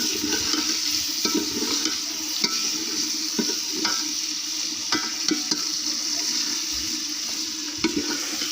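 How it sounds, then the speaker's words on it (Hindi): Chicken frying for biryani gives a steady, close sizzle and bubbling hiss of hot oil throughout, with occasional soft clicks of a stirring utensil and no talk. "यहाँ पर देख सकते हैं कि चिकन को मैं हमेशा बहुत अच्छी तरह से फ्राई करती हूँ"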